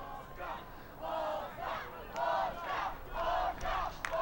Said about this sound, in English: the Ridgewood crowd one more time trying to get their team into it